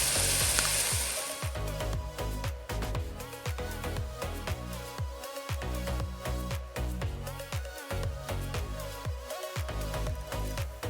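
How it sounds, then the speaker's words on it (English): General Tso's tofu sautés in its sauce with a soft frying hiss, partly buried under rhythmic, beat-heavy background music throughout. "I'm gonna let that saute for another 3 to 4 minutes"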